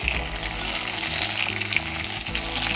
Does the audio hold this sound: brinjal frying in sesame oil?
yes